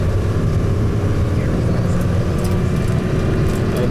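A loud, steady road rumble from inside a car driving through Dakar, Senegal, with engine drone and continuous traffic noise throughout.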